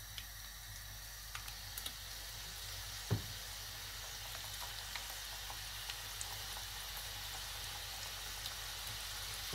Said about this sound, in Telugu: ఇలా విడివిడిగానే వేస్తున్నాం వల్ల ఎక్కువ టైం కూడా పట్టదు మనకి, చాలా స్పీడ్గానే వేగిపోతున్నాయి